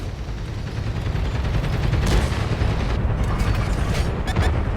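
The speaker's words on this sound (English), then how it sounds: "There we go, slow motion, he fires at me. Boom. I am gone." Tank gunfire and a shell explosion in the console game World of Tanks, with an S35 tank. A heavy sustained rumbling blast and crackle fills the scene, with sharper bursts toward the end.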